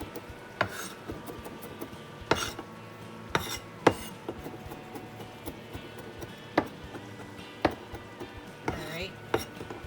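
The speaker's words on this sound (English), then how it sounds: "2 cloves of garlic, and give that a chop as well." A knife chops garlic cloves on a cutting board in sharp, irregular strikes, each a crisp close-up knock spaced a second or two apart, with faint scraping between cuts.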